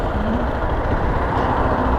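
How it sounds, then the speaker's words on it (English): Zontes 310X motorcycle with an aftermarket air filter, its engine running steadily on the road past roadworks, a continuous low drone with constant loudness throughout. "the engine itself is purring on"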